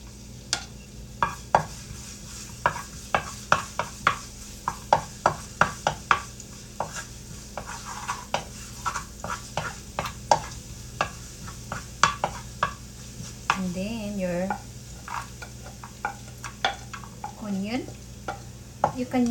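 Garlic fries in a hot pan while it is stirred, with a low, steady sizzle under repeated sharp scrapes and clacks of the utensil against the pan. A voice is briefly heard.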